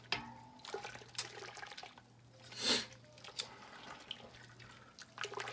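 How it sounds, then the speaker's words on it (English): Garlic soup is stirred in a pot, producing soft wet sloshing and liquid swirls with a brief louder swish in the middle, faint and close against a low steady hum. "So we stir that up real well."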